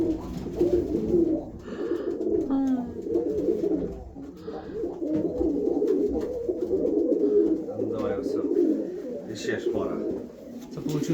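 Mykolaiv pigeons coo in repeated low, rolling phrases close by, with background murmur and a person's voice talking at times.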